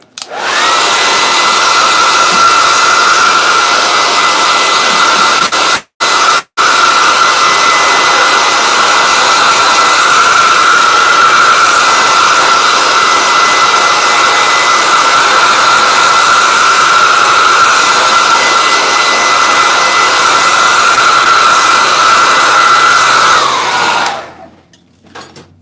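A hair dryer blasts steadily and loudly on a sketchbook page for about twenty-four seconds, cutting out twice briefly near the start before winding down at the end. No talking.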